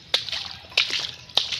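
Wooden boat paddle dipping into shallow water near a harbour, three sharp splashing strokes about half a second apart, close and crisp, with gentle sloshing between them.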